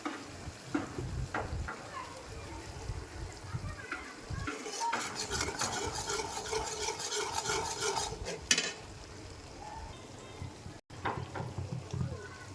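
Ghee stirred steadily in a hot pan with a spoon, scraping and sizzling continuously at close range while the butterfat cooks down and must be kept moving so it doesn't burn.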